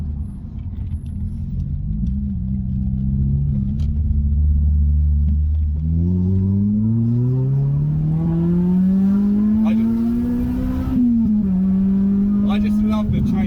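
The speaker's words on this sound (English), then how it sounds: "When VT kicks in, that iconic note change." Tuned Honda Civic EP3 Type R engine on wet roads pulls steadily through the revs. The rising, close, loud note climbs and then shifts character as VTEC engages, over a low road rumble.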